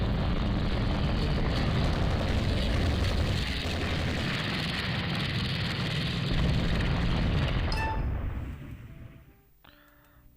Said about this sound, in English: let these torpedo bombers find some worthwhile targets